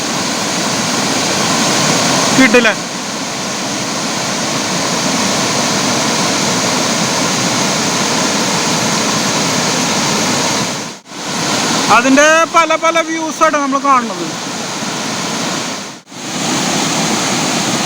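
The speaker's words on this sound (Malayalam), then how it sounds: "നല്ല അടിപൊളി വെള്ളച്ചാട്ടം കേട്ടോ, കിടിലൻ" Choriyankunnu waterfall roars as a steady, dense wash of falling water that fills the whole stretch, with someone talking over it and a couple of brief dropouts.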